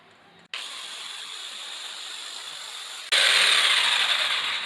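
A power tool whines steadily while cutting Durock cement board, starting abruptly, then growing louder and harsher partway through as the cut bites in, close and continuous.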